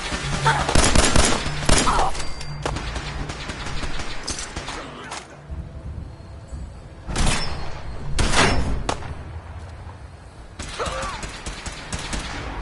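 Gunfire in the video game Fallout 4, loud cracking shots and bursts in several clusters across a busy, noisy combat scene.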